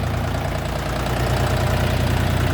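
A DongFeng 244 diesel tractor engine idles with a steady, rough low rumble and faint knocking, close by and continuous.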